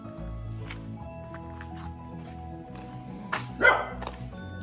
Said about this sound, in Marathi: आणि यो बुटक्या कुत्रा इथला